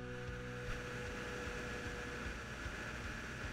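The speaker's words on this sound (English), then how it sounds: "The fan is very loud in the full cooling mode" A small Raspberry Pi 4 case fan in full cooling mode running hard, a constant whirring hum with a steady tonal drone, close and continuous, no talking.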